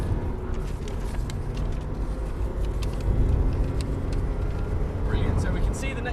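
Subaru Impreza STI accelerating on a test track toward a chicane, heard as a continuous low engine roar and road noise inside the car, swelling louder midway, with someone talking over it.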